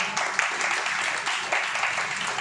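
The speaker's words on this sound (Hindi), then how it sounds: "तालियां हो जाएं।" An audience at an award ceremony for students in Delhi breaks into steady, continuous applause, a dense wash of many hands clapping at moderate volume with some voices faintly mixed in.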